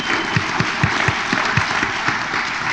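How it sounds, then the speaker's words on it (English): An audience at a student panel gives a short burst of steady applause, close and evenly sustained, with scattered claps standing out from the crowd. "So round of applause for that."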